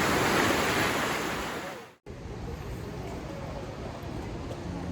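Cold mountain water of a stream at one of the sources of the Jordan River rushes steadily in a dense, close hiss, broken by a momentary dropout before the flow resumes.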